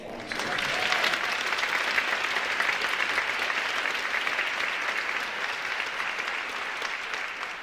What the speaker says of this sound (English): let's give Jessica his wife one